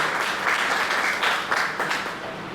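An audience applauds to welcome Dr. Subhash Chandra Yadav at a heritage lecture on Varanasi's history, a steady, dense wash of many hands clapping that holds evenly for a few seconds.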